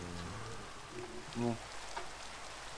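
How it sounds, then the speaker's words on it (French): Steady soft hiss of rain falling in a Minecraft modpack world, constant and fairly faint, with a brief spoken word over it. "il y a un truc qui me plaît pas, c'est la pluie"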